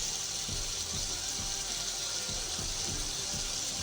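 Soy sauce pours into a cooking pan in a steady, continuous liquid stream, close and moderately loud, with faint soft thuds underneath and no talking.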